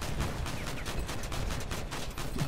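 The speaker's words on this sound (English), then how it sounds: "Let's warm these guns up." Dense, continuous gunfire from weapons mounted on a vehicle in the Crossout video game, a steady roaring fusillade with no gaps or pauses.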